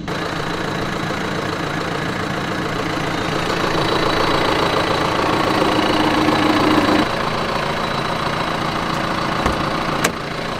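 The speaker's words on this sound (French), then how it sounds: "je suis en train de me faire tracter par le tracteur" A heavy tractor engine rumbles and knocks steadily up close while towing a car, its tone shifting partway through, with a sharp clunk near the end.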